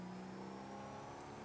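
A car in Grand Theft Auto V accelerating, its engine holding a steady, fairly loud drone whose pitch creeps slowly upward over a second and a half.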